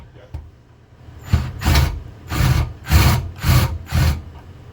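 A drill bores into wood while a broken lift pulley on a 1973 Starcraft Starmaster 8 pop-up camper is replaced. About six close, rhythmic grinding bursts follow a quiet start.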